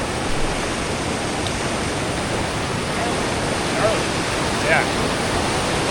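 Fast-flowing river in Banff rushing loud and steady, a dense broadband roar that fills the whole clip, with a brief voice speaking near the start.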